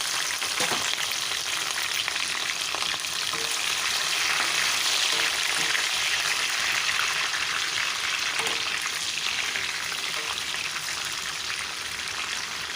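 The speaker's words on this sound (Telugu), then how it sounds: "క్యాప్సికమ్లు వేసుకుందాం, వేయించుకుందాం." Capsicum roasting in hot oil for a meal maker capsicum masala curry, giving a loud, dense, rain-like sizzle that holds steady throughout with a few faint stirring knocks.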